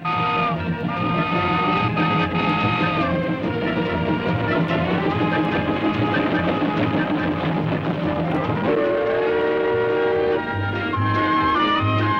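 A westbound passenger steam train at Disneyland rolls in with loud chuffing and clanking, its whistle sounding in sustained tones over the rumble, close by with no talking.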